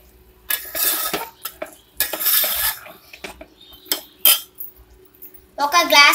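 Ladle stirring chicken curry in a cooking pot, with repeated clinks and scrapes of metal against the pot in bursts, close and fairly loud, with a brief voice near the end.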